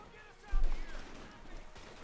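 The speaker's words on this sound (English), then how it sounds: "rifle grenade straight off in the midst, does a bit of damage there, not enough" Rifle grenades fired in the Company of Heroes 2 strategy game: a single muffled thump about half a second in, followed by a rumbling low boom that fades under battle ambience and a commentator's talk.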